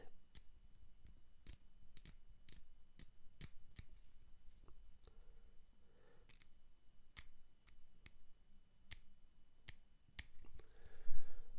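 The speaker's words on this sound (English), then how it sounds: "I've just scraped a little bit of the paint off the legs" A blade scraping paint off the plastic legs of a Lancaster bomber scale model kit, heard as a quiet, close series of short, sharp scrape strokes at an uneven rhythm.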